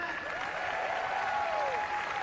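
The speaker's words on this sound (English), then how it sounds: "can you give a big round of applause to Mark Gately and the IDDCA for doing what they did today" A crowd applauds at a political event in Illinois, giving a round of applause for the organizers; continuous, dense clapping with faint overlapping voices underneath.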